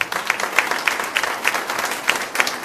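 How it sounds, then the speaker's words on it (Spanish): A church congregation applauds steadily, a dense crackle of many hands with a few louder claps popping out in a loose rhythm. "Den ese aplauso al Señor."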